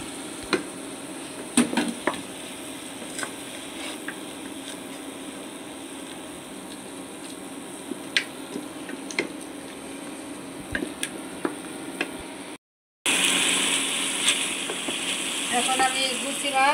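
Garlic, cumin, chili and ginger pastes with ground coriander, turmeric and salt frying in a pan for a gucchi fish chorchori, a steady close sizzle broken by scattered stirring clicks, briefly cutting out before returning louder and brighter.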